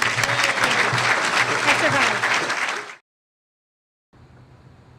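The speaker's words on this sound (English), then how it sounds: "So how about a big round of applause for..." An audience at a City Club of Chicago talk gives a loud round of applause for about three seconds, then the sound cuts abruptly to silence before a faint low background returns.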